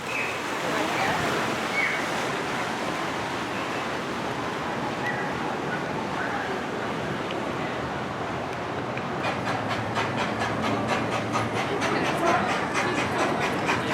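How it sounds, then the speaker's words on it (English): A small amusement park train at Lagoon Park in Farmington, Utah rumbles and clatters along in a noisy outdoor setting, with a rhythmic clicking pulse emerging toward the end. "So if you guys can hear that, that is the train"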